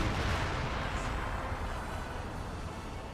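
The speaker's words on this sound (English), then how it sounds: "that priest is still hitting us with artillery" Artillery fire in Company of Heroes 2, with a sustained dense rumble of shelling and explosions filling the soundscape, loud and continuous without clear separate blasts and with no talking.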